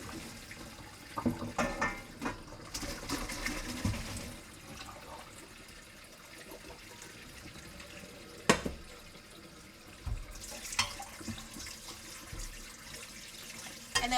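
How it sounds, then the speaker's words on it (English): Water poured off a pot of freshly boiled eggs splashes and gurgles into a sink in uneven bursts, fairly quiet, with a few sharper clatters between the flowing stretches and no talking. "drain the water"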